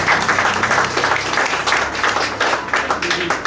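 Audience applause at a Cep d'Or restaurant awards event in Mauritius, a dense, fairly close burst of clapping that holds steady throughout, with voices murmuring beneath it.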